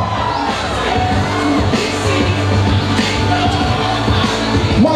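A large crowd of supporters at a pineapple queen pageant in São Domingos, Maranhão, cheers and shouts for a contestant, a loud, dense and continuous roar of voices with music underneath.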